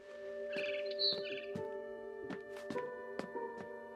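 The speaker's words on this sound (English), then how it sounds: "Then I heard chirping outside my window." A barn swallow chirps outside a window in a run of clear, bright tweets and short trills, close and distinct against a quiet background.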